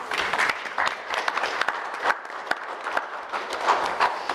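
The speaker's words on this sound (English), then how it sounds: "Very loud golf clap" A golf clap at a city council regular meeting: scattered, uneven handclaps from a small group in the chamber, steady and fairly close for a few seconds with no talking.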